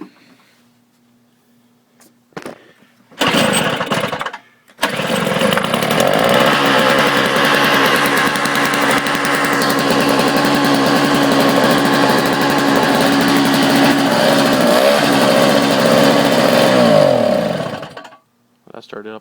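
A few faint clicks, then the engine of a Polaris Xplorer 400 ATV sputters briefly, catches, and runs loud and steady with a buzzing, high-pitched drone before cutting off.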